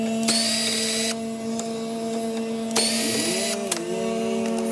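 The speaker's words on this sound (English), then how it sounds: "They're doing like 2-cycle stuff with trimming the hedges." A two-stroke hedge trimmer drones steadily in the background with a whiny engine tone that dips and rises in pitch, while brief harsher revving bursts come through.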